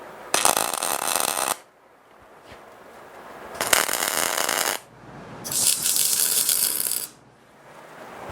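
Spot welding on the corners of a steel shop crane gives three loud bursts of sizzling, crackling arc noise. Each lasts about one to one and a half seconds, with short quiet gaps between them.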